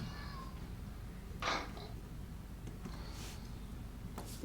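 A cat meows once, briefly and faintly, in a film soundtrack heard over a low steady background rumble, with a couple of other faint short sounds following.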